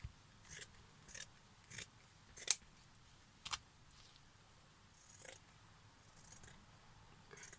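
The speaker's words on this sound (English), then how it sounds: "I just get the scissors and cut those out" Quiet, close snips of scissors cutting, about a dozen short crisp cuts in loose clusters with brief pauses between.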